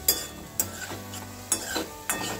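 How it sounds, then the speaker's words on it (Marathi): Gulab jamun balls fry in hot ghee with a steady close sizzle, punctuated by several sharp scraping stirs of a utensil in the pan. "आता आपल्याला हे जे गोळे आहेत हे छान असे तळून घ्यायचे आहेत।"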